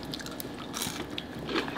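A crunchy french fry bitten and chewed up close, a few quick crisp crunches and soft mouth sounds over a brief moment, fairly quiet with no talking.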